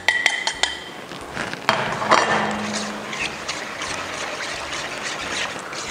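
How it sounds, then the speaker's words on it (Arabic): A spoon stirs a warm panna cotta mixture in a pan while chocolate melts into it, giving scattered metallic clinks and scrapes against the pan at close range, with no talking. "تنحركوا لاباري ديالنا مزيان حتى كيدوب ليا الشكلاط"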